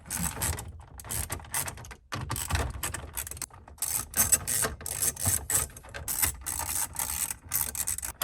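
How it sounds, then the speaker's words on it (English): A 7mm socket ratchet backs screws out of a car's HVAC panel during a sound system overhaul, giving rapid, continuous clicking ratchet bursts, close and loud, with brief pauses between runs. "which I got a 7mm socket here. Gonna zap these guys out."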